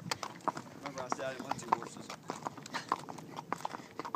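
Horse hooves clip-clopping at a steady walking rhythm on a Christmas Day ride at a painted horse ranch, clear close thuds spaced about half a second apart beneath people chatting.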